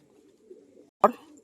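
Racing pigeons of the Rajshahi crested and Bali Biscuit breeds, a male and a female, give a soft low cooing murmur, then a sharp brief flutter or burst partway through, with the cooing continuing faintly afterward.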